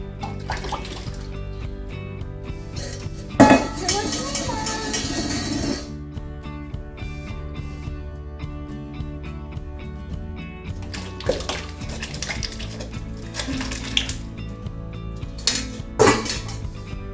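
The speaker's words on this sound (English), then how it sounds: "we are going to rinse the tomatoes in a cold water bath" Tomatoes being rinsed in a cold water bath: steady running and splashing water with clattering bowls and dishes, a few louder knocks standing out, heard close with no speech.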